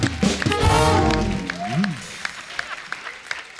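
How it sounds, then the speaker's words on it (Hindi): Audience applause for Jaggu Dada and the performers at a live stage show, a loud wash of clapping that fades over a few seconds while a voice speaks over it and cheers rise. "एक बार जग्गू दादा के लिए जोरदार तालियां और हमारे सब कलाकारों के लिए जोरदार तालियां"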